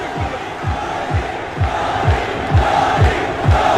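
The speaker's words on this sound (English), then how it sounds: "The crowd going wild at the moment" A roaring crowd at a fight event, loud and sustained, with rhythmic low thumps repeating roughly every half second under the cheering and shouts.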